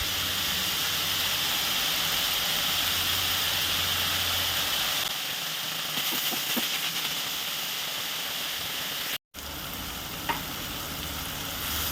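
Onions fry with salt in a pan for a dried fish curry, giving a steady close sizzle and hiss that drops quieter midway, with a brief break and a few light stirring clicks.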